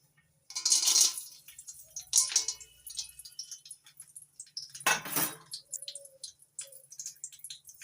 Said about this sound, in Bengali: চিনি বাদামটা ভেজে নিচ্ছি নাড়াচাড়া করে